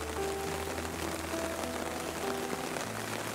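Steady rain falling over the Gifu World Rose Garden, a soft, even hiss of drops on surfaces heard at a distance, quiet and continuous with a faint low hum underneath.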